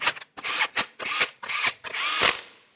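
A power tool, likely an impact gun, spins 21mm lug nuts onto a 2014-2018 Mazda 3 front wheel in a series of about six sharp whirring bursts, close and loud, with brief gaps between.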